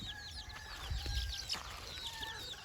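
Domestic hens and chicks clucking softly in an open farmyard where a mother hen keeps her brood, with brief bird chirps scattered over a low steady background and no talking.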